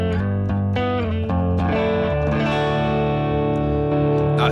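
Electric guitar through a BOSS GT-1000 on its X crunch setting at medium gain, crunchy distorted chords and picked notes ringing with sustain, loud and alone.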